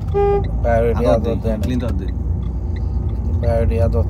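A car horn sounds briefly while driving at a roundabout in France, heard under a steady engine rumble inside the car as people talk over it.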